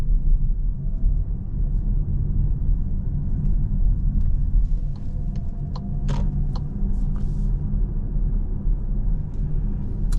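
Cupra Terramar eHybrid crossover driving in electric mode at night, a steady low road and tyre rumble filling the cabin throughout with faint higher ticks, no engine note and no talking.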